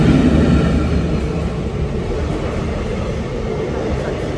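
A train passes a railway crossing near Thalassery railway station in Kerala, a steady loud low rumble of rolling wagons that holds across the whole stretch.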